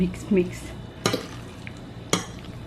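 Chili con carne is stirred in a pot, giving soft scraping and sloshing close by, punctuated by two loud metallic clanks of the spoon against the rim.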